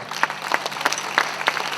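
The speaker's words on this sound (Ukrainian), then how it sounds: "Оплески, будь ласка." Audience applause at a Ukrainian festival event, a short burst of clapping with irregular peaks, moderately close, no talking over it.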